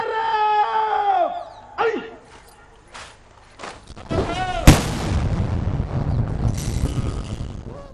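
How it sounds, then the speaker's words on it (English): A ceremonial 21-gun salute fired by a Sri Lanka Army artillery regiment: a single sharp booming report cuts through crowd noise and scattered voices, followed by a rolling echo, heard at a distance in an open outdoor setting. "the ceremonial 21-gun salute conducted by the Artillery Regiment"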